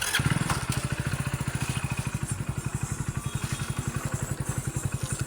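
A motorcycle engine idles steadily close by with a fast, even thumping pulse throughout, plus a brief clatter near the start and no talking.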